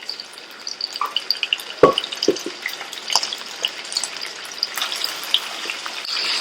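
Mutton pieces fry in ghee on a hot tawa with a steady crackling sizzle and scattered pops. Occasional metal scrapes from stirring land close by, and no one speaks.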